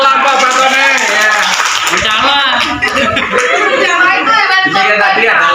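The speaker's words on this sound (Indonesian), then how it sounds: "Tepuk tangan untuk kelompok Patone ya" A classroom of students claps for a student group, with chatter and laughter mixed into the applause throughout.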